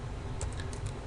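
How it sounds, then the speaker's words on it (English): A few quick, light keystrokes on a computer keyboard, tapped in a short burst over a low steady hum, close but faint. "and then I'm going to type"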